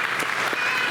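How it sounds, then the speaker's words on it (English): A brief, dense burst of crowd applause at a pageant, continuous and fairly loud with no pauses across the short moment. "So give them another round of applause."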